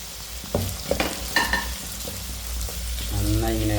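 Ginger and garlic frying in hot oil for Kerala-style beef fry, a steady sizzle with a few sharp spatula scrapes and stirs, close and moderately loud.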